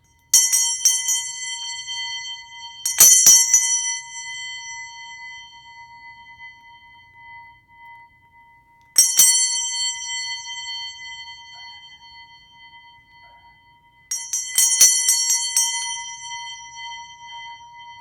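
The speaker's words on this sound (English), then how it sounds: "Ring the bell." A small bright bell rung in four separate bursts of quick repeated strikes, each leaving a long shimmering ring that slowly fades in a quiet room.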